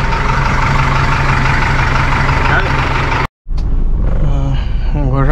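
A loud, rough-running farm tractor engine drones steadily at close range during dry-season cattle work, cutting out briefly midway, then returning with a voice talking over it.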